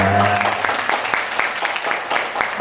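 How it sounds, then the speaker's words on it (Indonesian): An audience at an Indonesian book launch for a profile of Yogyakarta sculptors claps after a song, with steady, fairly close applause and sharp individual claps over the tail of a sustained musical tone. "tepuk tangan sekali lagi dong untuk lagu yang sudah diberikan Pak Willy"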